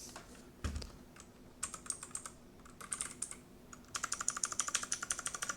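Typing on a computer keyboard nearby, with a single bump, then irregular bursts of keystrokes that end in a quick steady run of clicks, alone in a quiet room.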